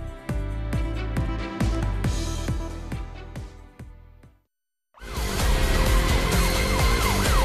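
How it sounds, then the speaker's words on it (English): A wailing siren sweeps up and down over heavy traffic rumble, cuts out briefly, then returns louder with a faster warble. "Apabila siren berbunyi, mereka sedia beraksi."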